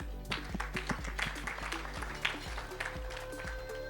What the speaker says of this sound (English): So clap for AK.